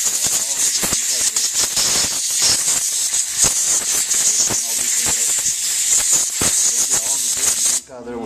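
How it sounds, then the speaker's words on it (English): Compressed air hisses loudly through the drain plug hole of a Yamaha RX-1 four-stroke snowmobile carburetor in repeated close bursts, then cuts off near the end. "Then I'll take some compressed air. We'll blow it through the drain plug hole."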